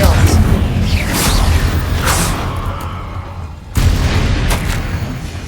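Confringo fire-spell blasts boom in Hogwarts Legacy during a duel, heavy thuds and whooshing impacts layered in a loud continuous clash, with a sharp fresh explosion partway through.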